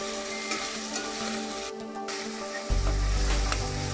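Pork liver cooking in a pan with garlic, a steady close sizzle and fry with soft stirring scrapes, swelling to a heavier, fuller sizzle toward the end, with nobody talking.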